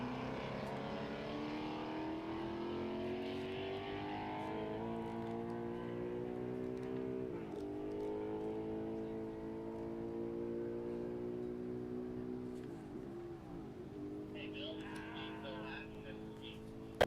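A B Street Roadster race car with a 2018 Dodge small block engine runs a class record attempt at El Mirage dry lake, a loud sustained engine roar that holds steady and then shifts pitch as it passes, under an announcer's voice.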